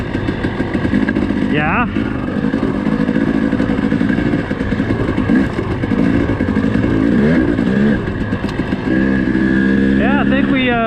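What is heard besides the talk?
dirt bike engine running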